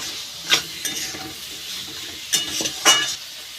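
Partly boiled potatoes sautéed in a pan for an egg and cauliflower curry, a quiet sizzle punctuated by several sharp scrapes and clinks of a spatula against the pan.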